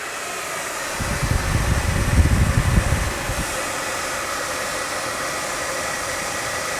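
A Vintage Air blower fan in a Pontiac GTO restomod runs with a steady, airy whoosh throughout, with a low rumbling swell for a couple of seconds early on.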